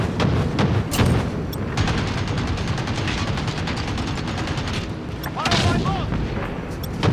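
Call of Duty Search and Destroy gunfire crackles nearly nonstop for seven seconds, loud overlapping shots and heavier booms in a busy firefight with scattered brief peaks.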